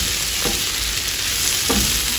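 Goat liver and stomach curry sizzles steadily in a pan as it is mixed, with a couple of soft scraping strokes of the spoon against the metal over the continuous frying hiss.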